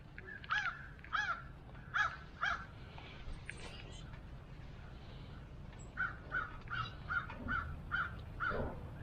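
Crows cawing in a series of repeated calls, a few harsh caws, a pause, then a longer run, over faint outdoor background noise at a winter camp.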